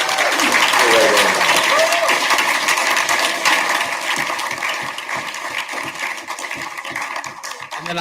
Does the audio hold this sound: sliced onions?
no